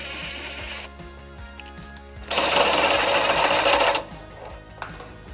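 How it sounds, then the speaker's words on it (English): Vehicle bolts being removed from a Volkswagen Tiguan with a 13mm socket on a 12-inch extension, heard as a rapid mechanical rattling burst of a power tool lasting under two seconds, close and loud, with quieter clicks before and after. "Now we're going to remove those bolts using a 13mm socket."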